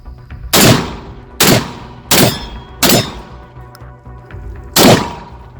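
Shotgun firing buckshot at multiple targets for home-defence practice: five loud, sharp blasts in an uneven sequence, each decaying quickly, with no talk.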